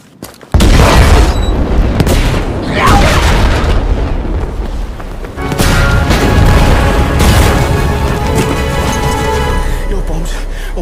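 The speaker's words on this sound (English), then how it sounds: "Yeah, that's because my bombs went off." Bombs exploding in Battlefield V: a sudden loud blast opens a long roaring rumble, then a second heavy explosion swells midway, with crackling debris and faint voices beneath.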